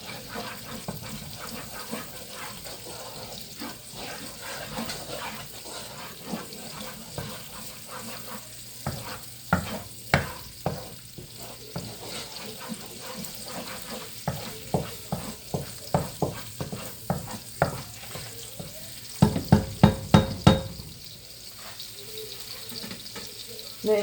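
Minced garlic roasts in hot oil, a soft constant sizzle under a long run of quick spatula taps and scrapes against the pan, growing busier toward the end.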